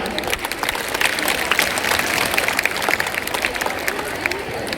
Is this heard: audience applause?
yes